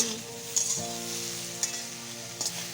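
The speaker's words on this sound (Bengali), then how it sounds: "সবজিটা ভাজা ভাজা হয়ে গেছে" Vegetables fry in a pan with a steady, close sizzle, broken by a few brief scrapes of stirring.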